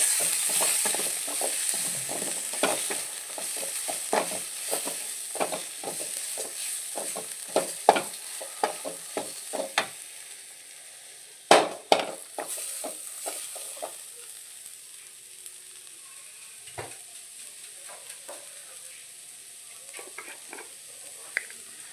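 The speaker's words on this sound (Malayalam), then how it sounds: "നന്നായി ഇളക്കി കൊടുക്കും" Village-style eggplant curry with coriander powder sizzles softly in a pan while a spoon stirs it, giving irregular scraping knocks over a faint hiss; the stirring slows and grows sparse toward the end, with no talking.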